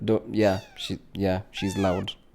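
A pet cat meows loudly several times in a row, drawn-out and insistent cries recorded close by indoors.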